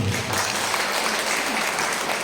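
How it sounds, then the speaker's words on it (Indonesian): Applause from a gathered crowd at a PKK anniversary church event, loud and dense clapping that stays steady from start to finish, with no talking heard over it. "Kasih tepuk tangan dulu."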